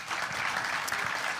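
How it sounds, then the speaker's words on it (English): Steady applause from a conference audience at a QBITS 2025 welcome session, a dense wash of clapping filling the whole moment without pause. "Big round of applause for John."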